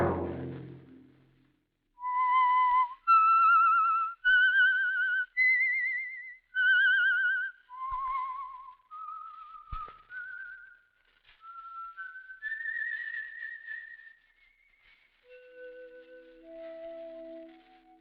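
Whistled theme of The Whistler radio program, a solo human whistle carrying a slow, eerie melody of distinct held notes, clear and close, trailing off at the end.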